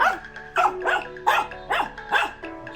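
A dog barks repeatedly nearby, five or six sharp yappy barks in an uneven rhythm, with no talking.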